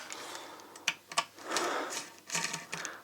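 Small scope mount screws on an FX Leopard 700mm .30 calibre air rifle spun down with a torque wrench, giving quick mechanical ticks and clicks followed by soft whirring spins, close and fairly quiet.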